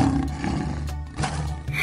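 A lion roars in a couple of deep, rough bursts, loud and close, with short gaps between them.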